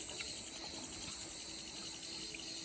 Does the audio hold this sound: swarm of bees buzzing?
no